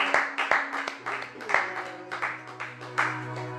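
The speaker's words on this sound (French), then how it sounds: "Et acclamons la parole de Dieu." A church congregation applauds with scattered, uneven handclaps that come in loose bursts, while a sustained keyboard tone hums underneath and faint voices mingle in.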